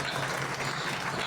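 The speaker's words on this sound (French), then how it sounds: "On nous applaudit ça." Dense, steady clapping from a congregation at a Pentecostal church anniversary service, continuous and fairly loud throughout the short stretch.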